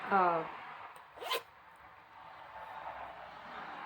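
A zipper being pulled on a small handmade mini project bag, one quick zip burst near the start, followed by low background noise.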